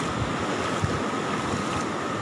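Waves surge onto the flooded Tanjung Pakis tourist beach, producing a steady, loud, broadband wash mixed with gusting wind buffeting the microphone, with no voices.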